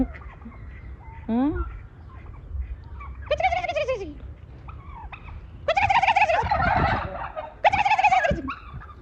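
Loud turkey gobbles burst out several times, with warbling calls separated by short pauses and some quieter clucking in between.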